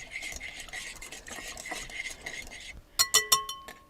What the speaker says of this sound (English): Then you're just going to whisk all of this together.